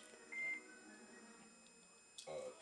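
A phone gives a short electronic beep, a steady tone that sounds once briefly and then again near the end, with faint household background noise behind it.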